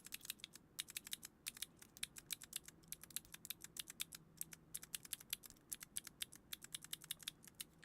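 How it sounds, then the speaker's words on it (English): Rapid, quiet clicking of fingers typing on a computer keyboard, keystrokes in irregular bursts with short pauses, close by and alone. "this is technically typing"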